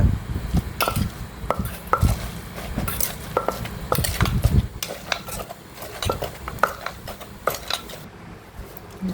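A spoon stirs and mixes raw ingredients for Isan-style jackfruit soup with sesame, scraping and clinking against a pot or bowl in repeated close, uneven strokes, without any talking.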